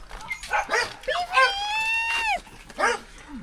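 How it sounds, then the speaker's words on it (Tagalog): A dog yips and barks in short, whiny bursts, some rising and falling in pitch, with a pause between calls; people talk nearby. "Ayun yung aso"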